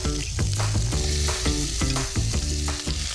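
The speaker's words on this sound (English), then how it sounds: "Oh, that's the sizzle that I want." Chicken browning in hot vegetable oil in a pan, a steady loud sizzle with intermittent stirring and scraping knocks, close and continuous with no talk.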